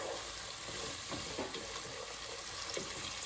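Curry leaves fry in a pan on a home stove for a Telugu dish, with a continuous, even sizzle and occasional faint stirring scrapes, close and steady; no talking.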